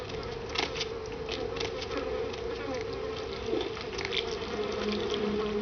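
In Vampire: The Masquerade – Bloodlines, a swarm of flies drones on without a break, a close and steady buzz that wavers a little in pitch, heard alone.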